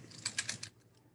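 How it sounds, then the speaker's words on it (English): Quick burst of typing on a computer keyboard during an online subcommittee meeting, several close keystrokes in a brief run that fades into quiet. "I just appreciate you typing, Mary."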